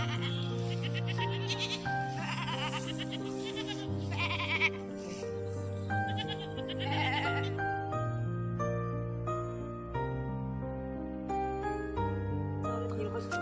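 A very tall ram goat bleating in a series of drawn-out, wavering calls that run almost continuously over a steady layered tonal background.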